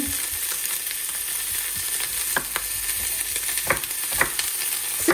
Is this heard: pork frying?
yes